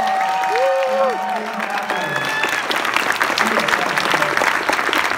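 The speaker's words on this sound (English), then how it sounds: "let's give a huge round of applause." A crowd at a comic con voice actors panel breaks into loud, sustained applause with some cheering, the clapping dense and steady for several seconds.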